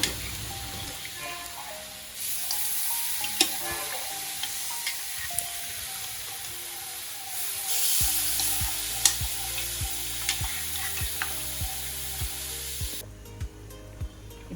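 Country chicken frying for a varuval, sizzling steadily in a pan while a spoon stirs and scrapes through it, the hiss rising and falling with each stir, with a soft musical backing joining partway through.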